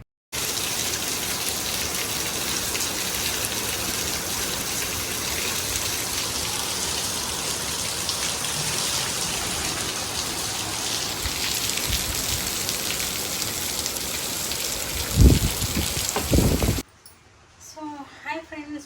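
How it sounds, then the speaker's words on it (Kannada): Heavy rain falls steadily as a dense, continuous hiss for most of the clip, loud and close throughout, and ends abruptly near the end, leaving quieter ambient noise. "ಸೊ ನೋಡಿದ್ರಲ್ಲ, ಫುಲ್ಲು ಮಳೆ ಬೆಳಗ್ಗೆಯಿಂದ."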